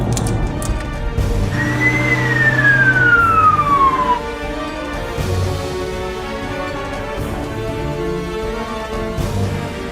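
A wailing ambulance siren sweeps down in pitch over steady highway traffic rumble, loud and close, fading into continuous road noise.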